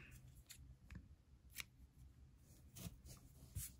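Scissors snipping rayon yarn joined with a second strand during knitting, a few faint close cuts spaced apart against a quiet room.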